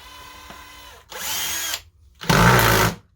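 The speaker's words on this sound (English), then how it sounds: "I'm gonna hold it in place and pre-drill at an angle." A power drill whirs in two short bursts, each about a second long, separated by a brief pause, pre-drilling wood at an angle; close and loud.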